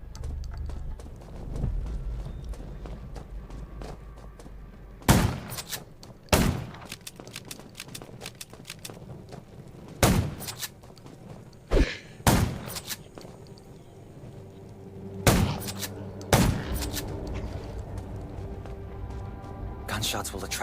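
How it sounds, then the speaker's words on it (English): Gunfire crackles in the zombie survival video game Undawn as sharp, loud bursts and single shots spaced out over about twenty seconds. Game ambience and a speaking voice run between the shots. "Gunshots will attract more zombies."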